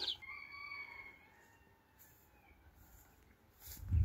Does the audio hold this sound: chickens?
yes